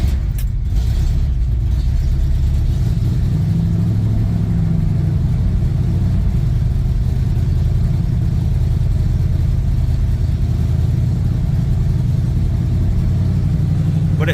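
An old Jeep J10 work truck with a carbureted engine runs continuously at close range, a loud, steady low rumble with a slight rise early on and only a little mechanical rattle on top.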